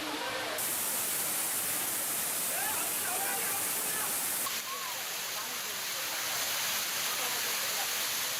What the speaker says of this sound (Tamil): மெயின் அருவியில் தண்ணீர் விழத் தொடங்கிய நிலையில்